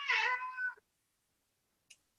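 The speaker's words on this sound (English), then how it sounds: "Cat has distracted me from what I was talking about." A cat gives one clear, fairly close meow lasting under a second, followed by near silence and a faint brief click; nobody talks.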